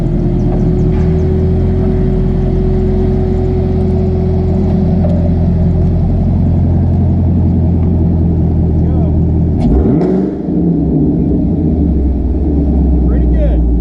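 Dyno run of a 2019 Camaro SS 1LE with a ported intake manifold and throttle body: a loud, steady engine drone holds throughout, with a brief dip and surge near the end, under talk.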